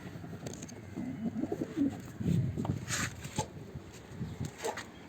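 Pigeons coo softly in low, rolling phrases from a loft where the birds are kept in separate groups, with a few faint chirps above a steady background hiss.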